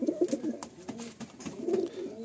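Pigeons in a loft coo in soft, throaty bursts that come close together, moderately near and a little muffled, with no voices.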